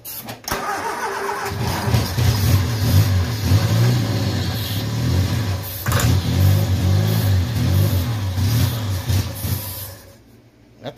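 An old midget race car engine that has sat unused for years cranks, catches and revs loudly up close, holding a rough, pulsing roar before cutting out abruptly near the end.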